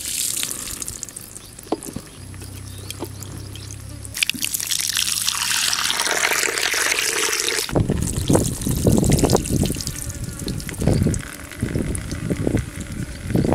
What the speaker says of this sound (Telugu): ఇప్పుడు నీళ్ళు పోసి కడుక్కోవాలి